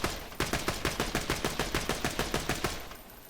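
Rapid, evenly spaced shots from a corrosive elemental gun in Borderlands 2, about a dozen crisp cracks in a steady burst that stops abruptly, leaving a short fading tail.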